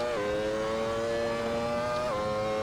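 The MSF FW24 race car engine holds a steady, high, buzzing whine at full revs, loud and continuous with strong harmonics, dipping slightly in pitch near the start and again toward the end, like shifts.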